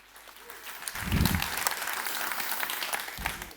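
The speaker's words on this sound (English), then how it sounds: "please, warm round of applause for Julian" Warm audience applause welcoming a speaker at a business talk, a full, fairly loud clapping crowd that swells and holds steady, with a brief low thump early on.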